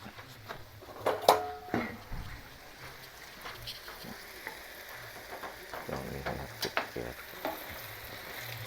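Minced pork and tofu sizzling and frying in a pan with bean sprouts and spring onion nearby, a steady close crackle with occasional stirring clatters and bursts of louder spitting.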